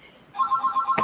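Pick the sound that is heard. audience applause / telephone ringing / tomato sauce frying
telephone ringing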